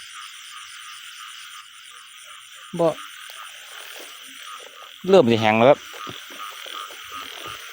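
Two loud croaking bursts from a frog, a short one and then a longer rattling croak, over a steady chorus of insects or distant frogs after heavy rain; a voice speaks briefly.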